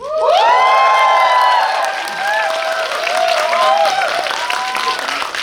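A cinema audience cheers loudly at a film Q&A, with high-pitched shrieks and whoops rising over sustained enthusiastic shouting that continues throughout.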